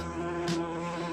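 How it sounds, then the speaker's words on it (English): A big wasp buzzes steadily and fairly close, a continuous droning hum with a slight flutter partway through, heard alone without talk. "But that big old wasp is there."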